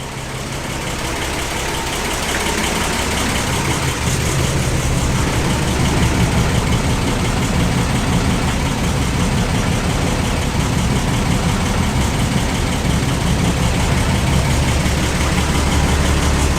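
An old Dodge engine in an Alfa Romeo 8C-35 transporter runs at a rough, steady idle on very old fuel, with the choke partly out, giving a loud, close, continuous rumble.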